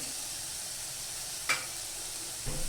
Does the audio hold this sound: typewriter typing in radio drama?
no